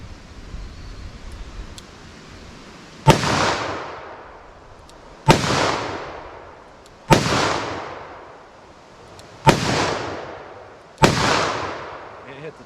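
.44 Magnum handgun fired double action at a steel target outdoors, five loud sharp shots spaced about two seconds apart, each with a long echoing decay and no talking.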